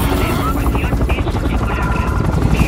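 Helicopter flying in the Bulletstorm video game, a steady loud rotor drone with engine rumble running throughout amid gunfire-like game noise, with a voice talking over it.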